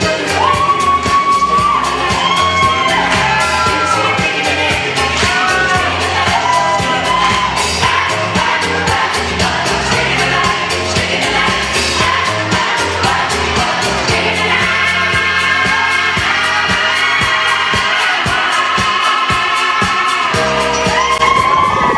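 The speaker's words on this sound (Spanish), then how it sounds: "Que se escuche fuerte el aplauso para ellos en la pista de baile" A loud crowd cheers, whoops and shouts for dancers on the floor at a surprise dance party, a steady roar lasting the whole stretch, mixed with blaring music.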